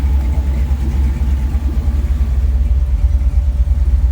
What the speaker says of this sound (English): I just kicked the fan on a moment ago.